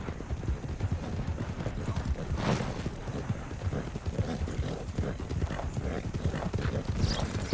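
A horse's hooves clip-clop steadily at a fast gait while riding in Red Dead Redemption 2, continuous and close, with faint talking in the background.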